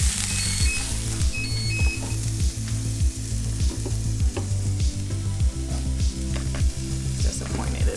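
Peppercorns and garlic fry in a pan with a loud, continuous sizzle and crackle, broken by a steady rhythmic pulsing throughout, and no voices.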